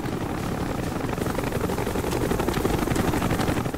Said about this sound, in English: That was a combat helicopter.